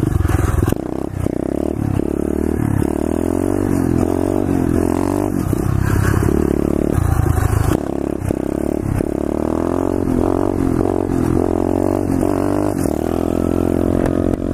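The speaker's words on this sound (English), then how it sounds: "If you hear a little rattling, I know what it is. It is my exhaust." A pit bike rides along with a loose exhaust that rattles where it clamps, its engine droning steadily and revving, with scraping clatter over the motor throughout.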